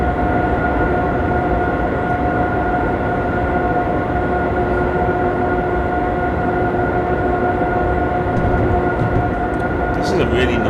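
A train cruising at speed in Train Sim 2014 on the Three Country Corner route produces a steady, loud rumble with a constant tonal hum running throughout.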